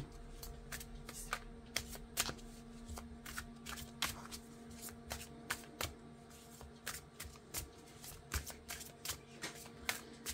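Oracle cards are shuffled by hand at close range in a series of soft, quick riffling and slapping bursts, irregular but continuous, fairly quiet and with no talking.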